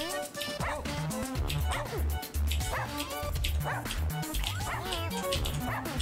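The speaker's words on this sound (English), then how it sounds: "Barking depletes your stamina." A cartoon dog in the video game Russian Subway Dogs barks and yips repeatedly in quick bursts over busy, loud game music.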